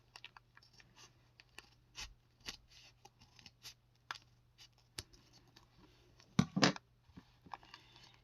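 Scissors snip fabric while a homemade baby toy is trimmed, sounding as a series of close, crisp cuts at an uneven pace, with a louder rustling cluster of snips near the end and no speech.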